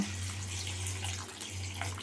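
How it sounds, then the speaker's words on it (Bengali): Water runs steadily from a tap into a pot of chopped green yardlong beans set to boil, a continuous close splashing flow with a short break before it resumes. "এখন আমি এখানে কিছুটা পানি দিয়ে দিব"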